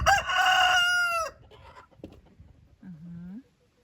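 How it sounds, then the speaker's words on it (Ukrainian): A rooster crows loudly and close by in one long, full call, followed by softer clucks and a short lower squawk, with no talk over it. "Чудовий півник."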